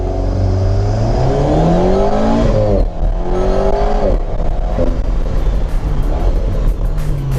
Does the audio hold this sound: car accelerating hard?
yes